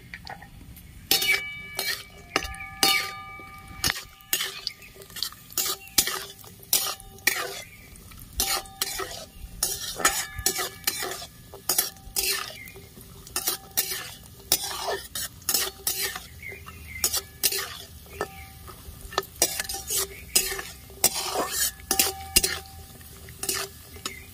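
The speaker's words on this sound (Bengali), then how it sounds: "তার সাথে কাজু কিশমিশ ভেজে নেব একসাথে।" Cashews and raisins frying together in oil in a hot wok, with a metal spatula clinking and scraping in a steady stirring rhythm over a soft sizzle, close and fairly loud, with no talking.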